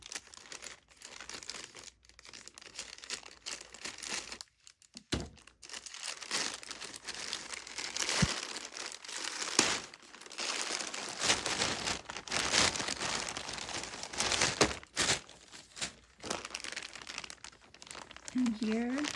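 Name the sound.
cutting open and handling small plastic bags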